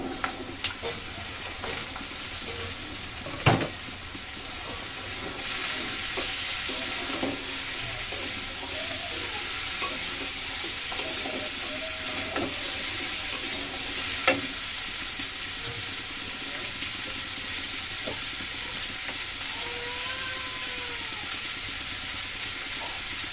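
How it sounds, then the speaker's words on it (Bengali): Chopped cauliflower and potato with egg fry in a pan, a steady close sizzle broken by scraping stirring strokes and occasional sharp utensil knocks throughout, no voices. "সামান্য একটু নেড়ে চেড়ে এখন দিয়ে দিলাম এই কেটে রাখা তরকারি কুচানোটা"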